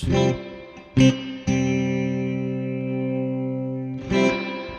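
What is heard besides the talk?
guitar amplifier reverb effect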